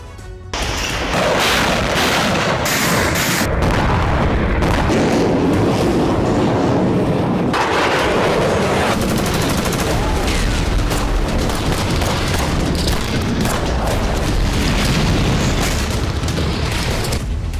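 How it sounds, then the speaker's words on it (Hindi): A continuous, loud roar of blasts and rumbling that barely lets up, heavy low-end booms layered over a dense crackling wash. "दूसरा धमाका, तीसरा धमाका, चौथा धमाका, पांचवा धमाका।"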